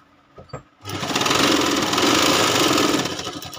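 A sewing machine stitches a border onto a quilt made from old sarees. A few faint clicks come first, then a loud, steady motor whir with rapid needle chatter runs for about two seconds before it eases off.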